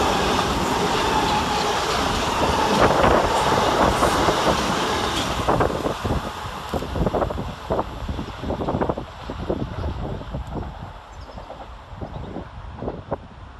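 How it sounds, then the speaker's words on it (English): A pair of Southern Class 377 electric units runs through Three Bridges station with a loud, rushing roar and rapid clickety-clack of wheels over rail joints, fading as the train passes, with wind buffeting the microphone. "Next passing through the station is 377473 and 377463, working 1H21 for Southern from Littlehampton to London Victoria."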